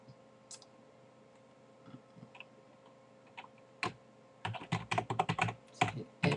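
Keys on a computer keyboard are tapped, first in sparse single clicks, then in a quick run of close, crisp strokes toward the end.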